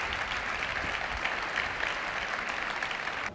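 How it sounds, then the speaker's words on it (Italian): Steady applause from an audience at the 1993 Venice Film Festival, a dense even patter of many hands clapping at a moderate distance without a break. "E allora il primo applauso a Gillo Pontecorvo"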